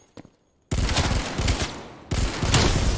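Rapid automatic gunfire in the video game Call of Duty Cold War, fired at bots: a brief tap, a pause, then two loud sustained bursts of rattling shots in close succession.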